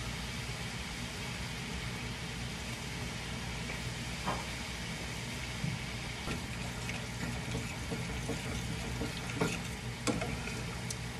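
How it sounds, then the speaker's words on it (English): Chicken fries in regular olive oil until crisp, giving a soft, steady sizzle with scattered faint crackles and pops at low volume. "So we're just gonna fry these up until they're crispy, and then we'll salt them"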